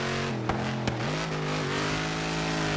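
A Dodge Challenger Hellcat with a rallycross build revs hard in Forza Horizon 3. The loud, steady engine drone climbs in pitch, broken by two quick gear-shift clicks early on.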